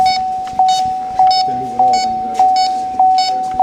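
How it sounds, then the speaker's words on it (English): A refrigerant identifier beeps regularly, about once every 0.6 seconds, during R1234YF air-conditioning service, with a continuous tone underneath and a voice speaking briefly in the middle. "it's beeping"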